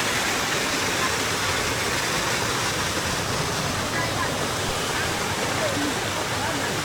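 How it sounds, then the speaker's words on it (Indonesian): A flowing river stream on the Mount Rinjani hiking trail in Indonesia, a steady, loud, close rush of water that fills the whole stretch without a break. "aliran sungai seperti ini"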